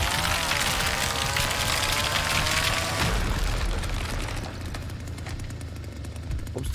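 A loud, rumbling destruction of an obstacle in a video game: a heavy crunching burst with a descending whine, then a settling boom and debris crackle fading over several seconds, with no voices.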